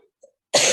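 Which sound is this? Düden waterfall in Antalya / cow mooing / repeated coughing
repeated coughing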